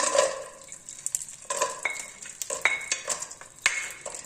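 Chopped cashews, almonds and raisins roast in ghee over low heat, a soft sizzle under clinking and scraping from a spoon stirring the pan, close and without talk.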